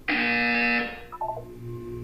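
A buzzer in the video game Portal 2 gives one loud, flat electronic blare lasting almost a second, followed by a short fading tail of softer tones.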